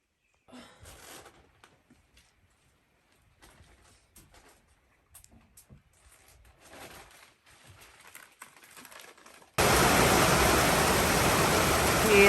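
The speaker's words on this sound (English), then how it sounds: "The rain is pouring down on top of the shelter." Rain pours onto the roof of an Appalachian Trail shelter in Vermont, a dense, loud, steady wash that cuts in abruptly after a quieter stretch of faint rustling and movement.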